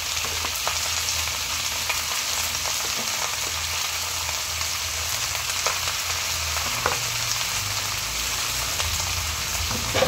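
Pork adobo frying in a pan, a steady close sizzle with crackling pops running continuously and evenly throughout.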